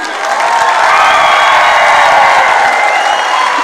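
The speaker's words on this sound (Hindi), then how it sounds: "मैं चाहूंगी कि उसके फाउंडर के लिए एक बार जोरदार तालियां हो जाए" A large audience at a corporate wellness company event claps and cheers loudly for the company founder, a dense, continuous roar of applause with shouts and whoops mixed in.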